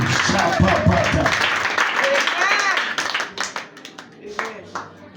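A church congregation claps during a lively worship service, a dense burst of hand clapping that fills the space at first, then thins into scattered claps as people cheer and talk over it.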